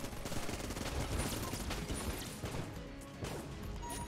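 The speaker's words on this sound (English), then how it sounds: "We might as well just use the Vulcan cannon the whole way, actually." Rapid, dense gunfire from the Vulcan cannon in the video game Enter the Gungeon, a loud continuous stream of shots and impacts filling the whole stretch with barely a break.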